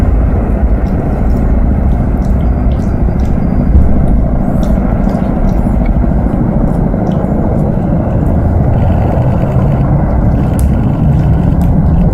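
Military aircraft taking off at Khmeimim air base in Syria with escort helicopters, heard as a loud, continuous broadband roar that stays constant and fairly near for the whole stretch, with no distinct rotor beat standing out.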